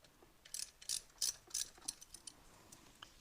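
A ratchet wrench loosens the pegs on a motorcycle named Lucille in a shed, giving a series of about seven quick, faint ratcheting clicks in short bursts, close by, with no talking.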